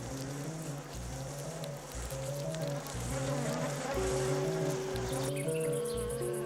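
Honeybees buzz around their hive in a dense, continuous drone that holds steady throughout, close and fairly full, with no voices over it.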